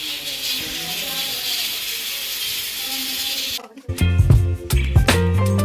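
Steam hissing steadily from a pressure cooker cooking potato and meat curry, a bright continuous hiss that cuts off abruptly into clattering kitchen noises.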